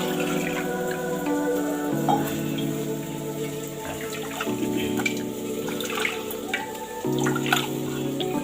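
Water is poured into a cooking mixture while making a Tamil lunch dish, a steady sloshing flow heard alone with shifting drones.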